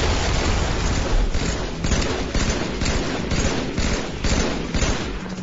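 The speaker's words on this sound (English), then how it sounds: "The battle rifle has a 3-shot burst" Halo 3 battle rifle gunfire in video game combat, loud and close: repeated sharp three-shot bursts follow one another in a quick, regular rhythm with no talking.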